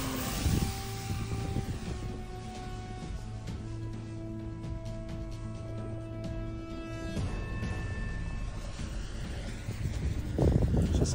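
A Flightline 1600mm Corsair RC warbird, a big heavy scale model, flies past with a steady droning electric whine whose pitch shifts as it turns, over outdoor wind noise and no talk.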